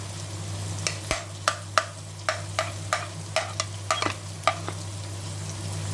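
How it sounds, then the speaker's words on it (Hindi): Chopped tomatoes and finely cut green chillies fry in oil in a karahi, with a steady low sizzle under a run of sharp stirring clacks spaced about every half second, close and fairly loud, with no talk. "थोड़े से टमाटर सॉफ्ट हो रहे हैं ऑयल में"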